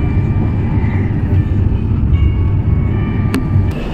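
A Garib Rath Express AC train runs at 105 km/h toward Kishanganj on the Kolkata to Guwahati route, heard as a loud, continuous low rumble of wheels and carriage with a couple of sharp clicks.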